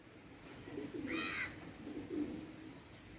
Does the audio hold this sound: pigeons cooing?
yes